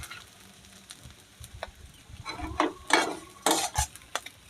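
Roasted mung dal being stirred in a pot on a village stove with the gas turned off, a series of dry scraping and rattling strokes, growing louder, with a spoon knocking against the pot, close and without talk.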